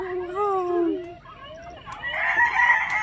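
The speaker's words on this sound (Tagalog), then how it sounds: "Dati wala pang mga manok. Ngayon, ang dami na." A rooster crows close by while other chickens cluck and squawk around it, the calls rising and overlapping in a lively farmyard chorus.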